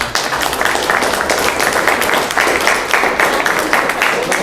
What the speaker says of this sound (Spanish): Un aplauso para todos los que estamos nosotros